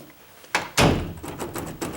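A paddle door handle on a door being locked, heard as a sharp click followed by a louder thunk, then a few lighter taps and rattles of the mechanism, close and alone.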